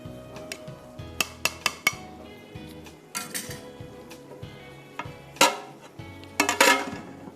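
A spoon clanks and scrapes inside a metal cooking pot as mint is stirred, with sharp irregular metallic knocks and clinks close by, coming in scattered bursts over a low background hum.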